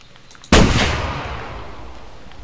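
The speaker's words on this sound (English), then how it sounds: "let's go ahead and go for the shot" A single sharp rifle shot aimed at a mule deer in the hunting video game theHunter, a loud close crack with a long rumbling tail fading over about two seconds in rainy weather.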